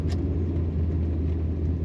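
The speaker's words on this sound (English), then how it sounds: "Today we're driving a 1995 Ford Mustang" A race-prepped 1995 Ford Mustang GT coupe with a 5-speed manual and roll cage cruises with a steady, deep engine and road rumble heard from inside the car.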